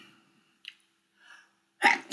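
A man in a lecture hall gives a single sharp sneeze at the end after a few faint breaths and small sounds.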